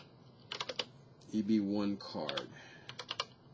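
Computer keyboard keys clatter in two quick bursts of rapid typing, close and fairly light, with a spoken phrase between them.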